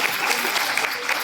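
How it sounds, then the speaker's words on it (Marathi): An audience on a television serial set claps for the crew, a dense, steady burst of applause filling the short moment. "त्यांच्यासाठी एकदा टाळ्या वाजवा."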